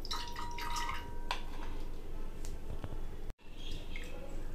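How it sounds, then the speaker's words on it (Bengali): Water draining through a strainer from freshly washed grated raw mango: a steady close splashing trickle with scattered drips, briefly cut off near the end, then resuming. "এবার আমি জল ছেঁকে ফেলে দিচ্ছি, ছাঁকনি দিয়ে ছেঁকে নিলাম।"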